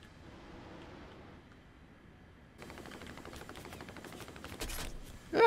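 A .50 caliber machine gun on a jet in a video game fires as a rapid burst of faint, distant rattling shots that begins midway through and runs under a low engine drone.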